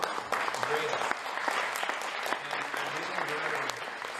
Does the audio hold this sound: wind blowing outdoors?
no